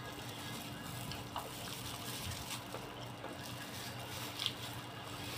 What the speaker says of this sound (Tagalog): Kasi nga naglalaba ako.